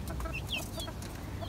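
Short, scattered calls from a pet hen clucking nearby a few times over a steady low background rumble.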